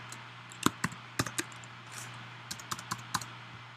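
Keys clatter on a computer keyboard as Java code is typed: a few spaced single clicks, then a quick run of strokes toward the end, close and crisp over a steady low hum.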